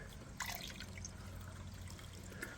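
Water is poured into a Suzuki car engine, a steady wet trickle and splash running close and continuous with a brief louder gush near the start.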